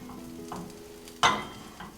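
Canned chicken luncheon meat sizzles and crackles in a hot pan, with a sudden louder burst of frying partway through, close up and without talking.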